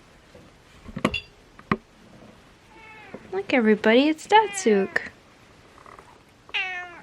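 A pet kitten meows several times indoors, the short, rising cries clear and close, while someone talks to it and over it.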